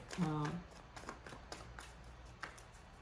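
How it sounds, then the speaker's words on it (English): Tarot cards are shuffled by hand in soft repeated riffling taps and flicks, close and quiet, with a voice heard briefly at the start. "so that you guys can see that I'm shuffling"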